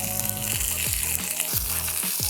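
A deer heart frying in a pan outdoors with salt, brown sugar and ground coffee, giving a steady close sizzle broken by several quick scraping stirs.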